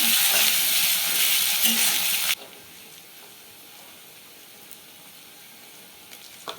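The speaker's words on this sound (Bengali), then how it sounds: "এটা আমি খুব ভালো করে ভাজা ভাজা করে নেব এবার আমি দিয়ে দেবো আদা রসুন পেস্ট" Bhetki fish bones frying in oil with ginger-garlic paste added, a loud steady sizzle that drops sharply partway through to a quieter, softer crackle.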